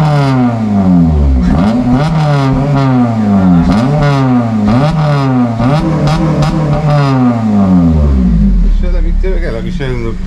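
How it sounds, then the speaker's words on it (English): A Honda Civic FN2 Type R with a Japspeed exhaust manifold revs hard again and again, climbing quickly and bouncing off the rev limiter in a repeated rising and falling pattern, loud and close. "Five, it bounces off. Do it again. Bounces off the limiter."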